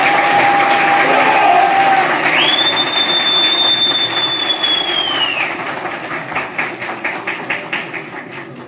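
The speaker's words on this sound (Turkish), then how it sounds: "şimdi buradan öyle bir alkış istiyorum ki Cumhurbaşkanımıza ta Ankara'dan duysun" At a political party congress in Bergama, Turkey, a crowd applauds while a long, high whistling tone rings over the noise. The clapping settles into a rhythmic beat near the end.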